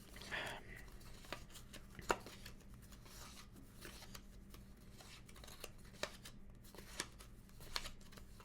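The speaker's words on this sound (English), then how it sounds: "Just shuffle my tickets." A small stack of movie tickets is shuffled by hand at close range, soft papery riffles and flicks in a quiet room with a few sharper snaps scattered through.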